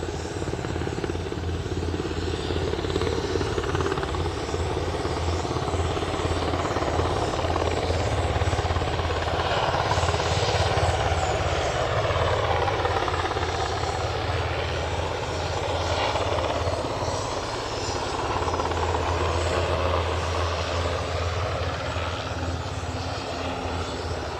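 A CHC helicopter lined up on the runway at Aberdeen airport gives a steady, loud rotor and engine drone that holds without a break, with a low thrumming beat underneath.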